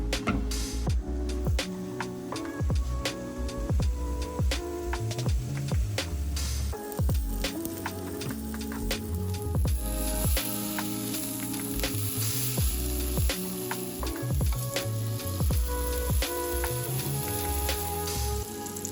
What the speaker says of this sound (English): When you cook the Wagyu steak, you don't really need to put anything on the pan because this thing is just pure meat butter and it sears so nicely.